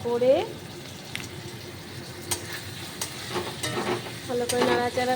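Cumin powder and Kashmiri chilli powder stirred in a frying pan, with a soft steady sizzle and scattered scraping strokes of a spoon that grow busier toward the end; a brief voice sounds at the start.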